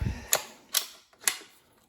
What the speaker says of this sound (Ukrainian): скользящим болтовим затвором.